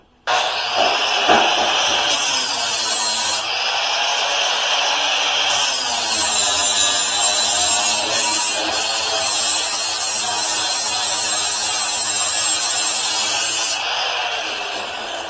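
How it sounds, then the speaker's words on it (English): A power grinder works on Ford Ranger truggy parts, a loud, close, high whine that runs continuously, with its pitch and intensity shifting as it bites into the metal and eases off. "I'll give you a little bit of grinding, but not very much."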